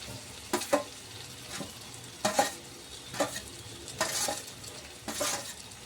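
A utensil stirs prawns in a frying pan in a series of distinct scraping strokes about a second apart, with a soft sizzle underneath, close and fairly quiet.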